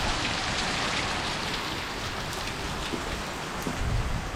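Heavy rain pours down hard in a dense, continuous roar, with gusty wind and scattered drips and splashes close by, during Storm Noru in southern Laos.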